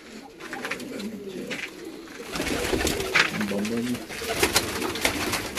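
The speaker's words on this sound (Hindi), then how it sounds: "जी ये इनका मेन कबूतर है, शेरदिल कबूतर।" A flock of pet pigeons, including a prized fifteen-year-old Sherdil bird, coo in low rolling phrases close at hand, swelling louder in the second half while a voice speaks faintly in the background.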